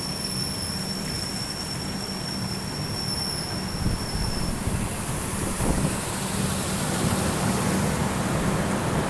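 The Pragati Express rolls through the Bhor Ghats in heavy rain, a continuous rumble of wheels on track with a thin high squeal early on and a rushing wash of rain and wind, heard steadily from onboard.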